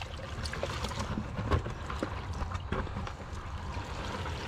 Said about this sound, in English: The old strainer's overflowing.